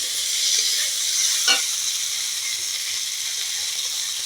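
Cumin and ginger-coriander paste for a bamboo shoot curry fry in a pan with a faint, steady sizzling hiss, broken once midway by a brief scrape of stirring.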